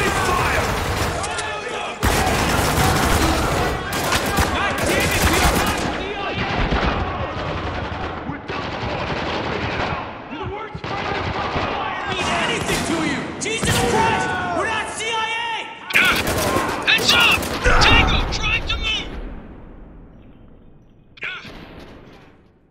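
Heavy gunfire from soldiers in the video game Spec Ops: The Line, with loud repeated bursts and single shots crowding nearly the whole stretch and shouted voices mixed in, trailing off into a quieter end.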